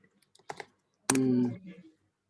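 Computer keyboard typing during copy-pasting into a chat, a few soft scattered key clicks followed by a brief louder burst of sound, close and quiet against near silence.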